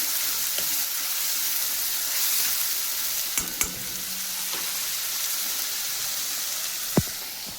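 Black masala paste sautés in a pan while cooking rassa matki usal: a steady, close sizzle of frying continues throughout, broken by a few sharp spatula taps and scrapes against the pan.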